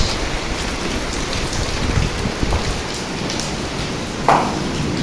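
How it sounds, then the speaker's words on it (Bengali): Heavy rain pours down in a sudden downpour, a dense, loud, continuous hiss with a brief splash near the end and no voices. "ঝুম বৃষ্টি পড়তেছে, ঝুম বৃষ্টি"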